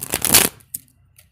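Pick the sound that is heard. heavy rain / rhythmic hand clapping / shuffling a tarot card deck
shuffling a tarot card deck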